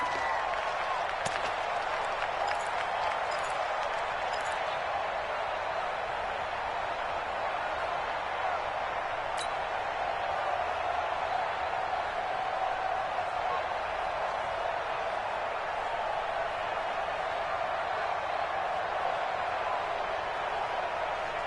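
Steady stadium crowd roar from a video football game, a dense continuous wash of cheering and noise at home field, loud and unbroken throughout with no clear voices on top.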